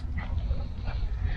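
A ten-month-old dog whines and whimpers softly in short high cries, faint above a loud low background rumble.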